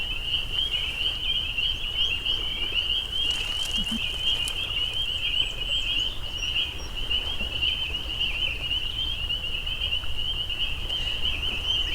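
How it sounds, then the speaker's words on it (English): A dense chorus of high-pitched calls from male spring peeper frogs forms a steady, continuous trill over a low background hum. "the peepers decided to join us"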